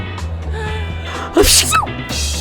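A sneeze bursts out abruptly over a faint background hum during a school spray-bottle prank: one sharp, close, loud sneeze after a short quiet stretch, followed by a short hissing spray.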